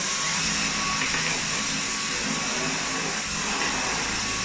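A Dyson V10 cordless stick vacuum runs with a continuous high-pitched whine and airy roar, steady and close throughout.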